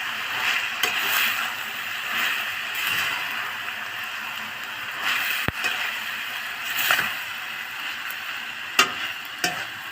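Minced meat and onion sizzle and fry in a pan for içli köfte, with a steady crackling hiss broken by occasional scrapes and clinks as a utensil stirs.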